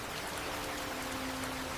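Rain falls steadily and evenly, a constant soft hiss of drops without pauses at moderate loudness, with no voices.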